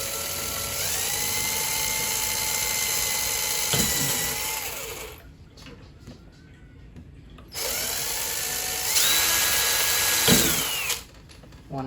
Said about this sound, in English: I will pre-drill my hole into my perch.